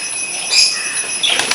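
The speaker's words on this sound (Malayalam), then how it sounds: "നമ്മളെ മറ്റേ പ്രാവ് ഇറങ്ങുന്നുണ്ട്" A pigeon flaps its wings as it comes down, a brief close flutter of whirring beats over a faint steady background hum.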